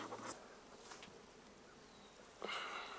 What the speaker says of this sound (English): You should start to see some bees